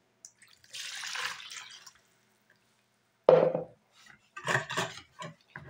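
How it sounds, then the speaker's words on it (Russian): A soft stream of warm milk pours into a bowl of whisked eggs for about a second, followed after a pause by a few close clinks and splashes. "Наливаем 500 мл теплого молока."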